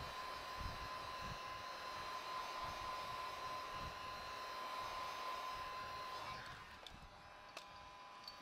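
A heat gun blows on car emblem letters with a steady, faint whirring hiss that holds constant and then dips slightly near the end.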